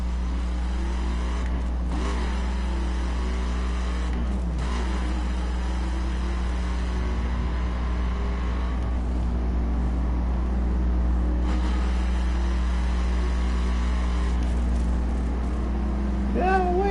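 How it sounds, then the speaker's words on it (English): A car with a stock exhaust drones and revs steadily nearby, loud and continuous, with people talking over the engine. "The full stock exhaust sounds better than the modified exhaust."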